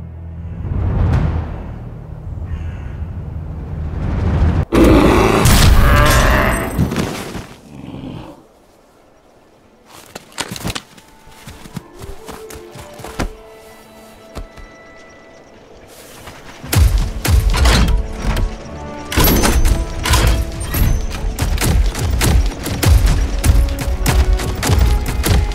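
Gunfire in the real-time strategy game Iron Harvest, a burst of loud broadband shots around the middle, then scattered sharp cracks and thuds amid game music and effects, with a dense stretch of impacts near the end.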